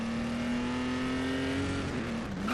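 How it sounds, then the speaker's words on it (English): Modern Audi LMP prototype race car engine in the racing game GRID, a steady loud drone holding a high pitch at full throttle, dipping briefly near the end, with no voices. "this Audi that I'm using is supposed to be a modern LMP"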